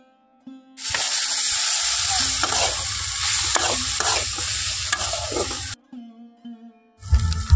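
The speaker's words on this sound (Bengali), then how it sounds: "1 মিনিট মতো নাড়াচাড়া করে নিয়েছি।" Drumstick curry being stirred in a pan after a pinch of salt, for Bengali data chorchori: a steady frying sizzle with repeated scraping stirs, loud and close, then a brief pause and a final scrape.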